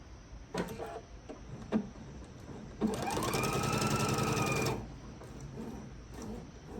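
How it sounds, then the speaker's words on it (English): A quilter's sewing machine stitches a fabric panel in one fast, steady whirring run of about two seconds, preceded by brief clicks and handling noises, with no talking. "So now I'm going to sew the other end on."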